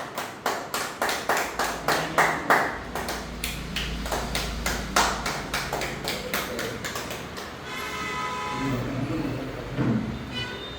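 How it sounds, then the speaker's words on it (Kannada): An audience at a felicitation event claps in a steady, evenly spaced rhythm for several seconds. The claps then give way to a sustained tonal sound. "ಚಪ್ಪಾಳೆ"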